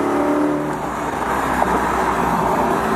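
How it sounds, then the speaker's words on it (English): A Nissan GT-R passes by with a steady, fairly loud engine drone that stays even over a few seconds, with no voices. "Whose GTR is that?"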